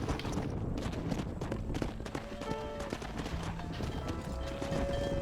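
Horse hooves clip-clop in an irregular walking rhythm in Red Dead Redemption, moderately close, under game ambience with faint tonal background sounds and no clear talk.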